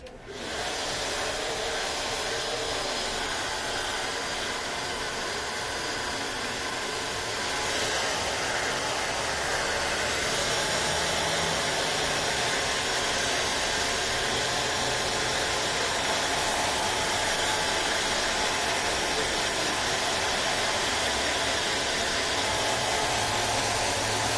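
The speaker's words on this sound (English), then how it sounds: "I'm going to dry it. I'm going to see how the hair lays. And I'm just going to blow dry it." Hand-held hair dryer blowing a person's hair dry, a constant loud whooshing motor hum running unbroken for the full length, close by, with no talking.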